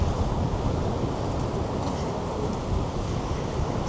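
Strong seaside wind in Blackpool roars steadily across the microphone, a dense, continuous buffeting close up with no pauses.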